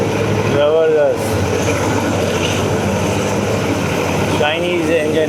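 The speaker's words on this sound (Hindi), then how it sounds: "चाइनीज़ इंजन अपना गरजदार आवाज़ में।" A Chinese-built diesel locomotive engine roars steadily and loudly on a Pakistani train, with a deep sustained rumble and a rising whine near the start and end.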